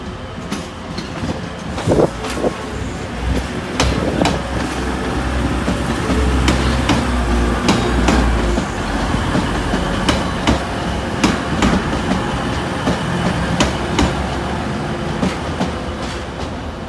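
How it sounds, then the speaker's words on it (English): A Northern Trains class 156 diesel unit, 156422 on the service from Manchester Piccadilly, moves through Sheffield station with a loud steady rumble, rhythmic clicks and knocks from wheels over rail joints, and a low engine drone throughout. "The 1413 Northern Train service from Manchester Piccadilly. 156422."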